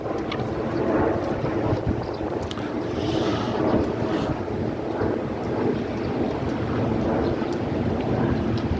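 Ferries running on the water of Hong Kong harbour, heard as a steady, loud low rumble of engines and churning water, buffeted by wind noise on the microphone, with no one talking.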